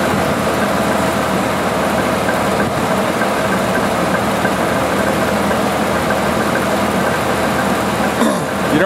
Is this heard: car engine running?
yes